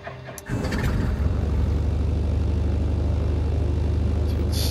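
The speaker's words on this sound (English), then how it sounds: "Let's get a quick look at the engine start" An aircraft engine starts up in Microsoft Flight Simulator with a brief whirr and click, then settles quickly into a steady, loud, low droning hum that holds to the end.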